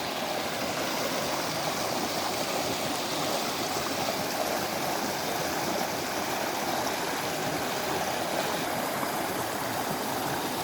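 A river stream at the edge of a forbidden forest flows with a loud, steady rushing wash that stays constant throughout, close by with no voices.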